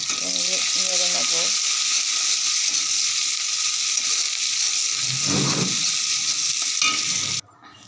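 Chopped onions fry in oil with a continuous loud sizzle while being stirred, with a scraping stir midway and a short stretch of voice at the start before the sound cuts off near the end.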